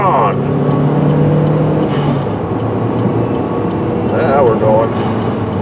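A car engine drones loud and steady close by, pulling hard through its gears as it powers along in traffic, with a hiss of air and faint road noise under it.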